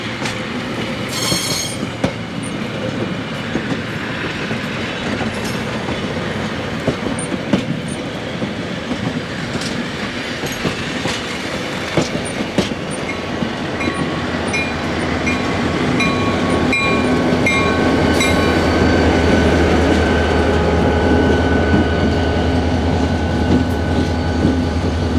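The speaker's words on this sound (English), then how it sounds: "504 and EMD SD24 makes its pass with the Zephyr train." An EMD SD24 diesel locomotive rolls past hauling the Zephyr train at a railway museum, with a continuous heavy engine rumble, rail clatter and wheel squeal close by, swelling louder toward the end.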